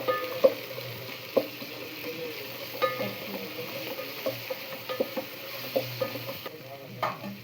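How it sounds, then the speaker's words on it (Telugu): Mint and ginger fry in hot oil for a home-style vegetable rice, a steady soft sizzle broken by regular scraping knocks of a spoon stirring the pan, with no voices. "అన్నీ మంచిగా మిక్స్ అయ్యేలా కలుపుకుంటున్నాము."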